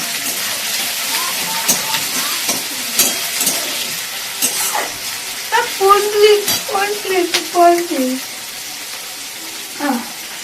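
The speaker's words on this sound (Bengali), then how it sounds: "তখনই আমি মাছ ভাজলে আমার গায়ে ছেটাবেই ছেটাবে" Fish sizzles and spits in hot oil in a home kitchen, a continuous close frying hiss with occasional stirring clatter, while a voice talks intermittently over it.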